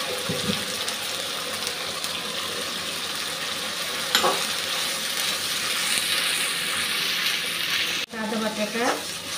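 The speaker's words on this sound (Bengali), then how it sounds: "মশলাটা খুব ভালো করে ভেজে নিয়েছি" Onion, ginger and green chilli paste fry loudly in a pan for preparing boal fish curry, a steady dense sizzle with a brief stirring scrape midway and a clattering knock near the end.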